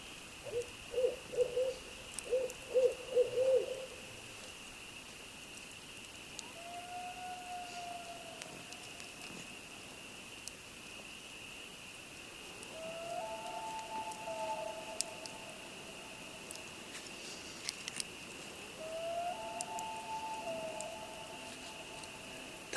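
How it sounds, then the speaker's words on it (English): Loon calling across a lake in the Canadian wilderness at night, a few short tremolo notes followed by long, drawn-out wailing calls, faint and distant over quiet ambience. "That's one of my favorite sounds on the lake, the hauntingly beautiful call of the loon."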